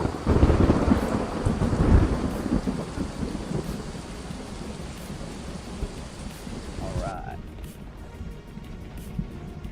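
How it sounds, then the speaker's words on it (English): Steady rain with heavy rumbling thunder in the American Truck Simulator driving game, loudest over the first few seconds and then easing into a continuous downpour, with a brief tonal blip near the end. "And it's raining here again."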